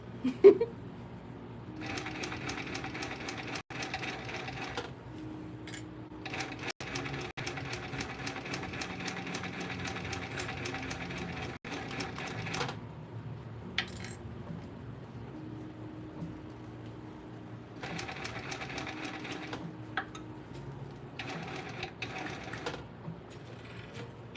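Cylinder arm sewing machine stitching a Gucci bag, with fast mechanical runs of stitching broken by short pauses, several bursts in all, fairly quiet and close with no talk.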